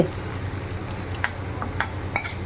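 Onions frying until golden for aval upma, a low steady sizzle close by with a few light scraping stirs and small clicks from the pan.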